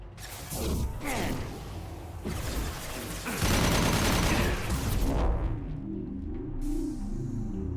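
Gunfire in a Mass Effect Legendary Edition 2 firefight, a fairly faint stretch of rapid, muffled shots and thuds that thins out toward the end.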